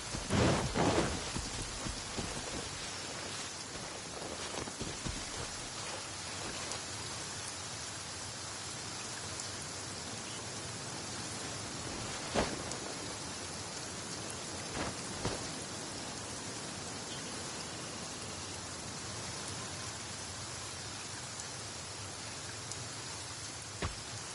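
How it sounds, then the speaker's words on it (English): Steady rain falls in Genshin Impact, a constant hissing downpour on surfaces with a few louder drip accents and a faint rumble early on, continuing alone without talk. "Don't stay out in the rain for too long."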